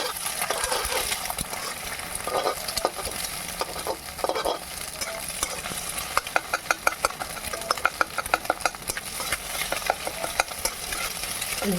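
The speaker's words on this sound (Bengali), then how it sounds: "ডিমটাকে আমি খুন্তি দিয়ে ঝুড়ি করে দিচ্ছি।" Egg frying in a pan with a little salt while a spatula scrambles it, giving a steady close sizzle broken by quick scraping and tapping clicks. No one speaks.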